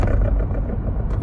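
Steering column rattle in a Chevy HHR while braking: a steady, dense clattering rattle mixed with low engine rumble from inside the car, continuous and fairly loud, with no talking.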